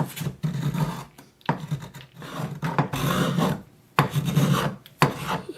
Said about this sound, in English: take the spoke shave and scrape it off